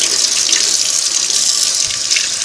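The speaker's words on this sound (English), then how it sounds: "I'll go ahead and rinse this, since it can go with that clamp washer" A tap runs steadily as Singer 301A sewing machine parts are rinsed under it, a close, bright splashing stream of water with no talk.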